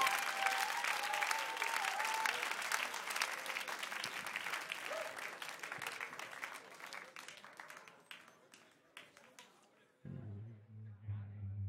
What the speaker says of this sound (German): Applaus bitte für krNfx und Babeli!